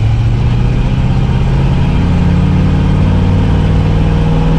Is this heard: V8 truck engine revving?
yes